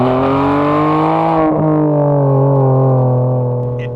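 A V12 Ferrari accelerates hard from a quick start, its engine screaming loudly up through the revs, dipping briefly at a gear change, then climbing again before fading slightly at the end.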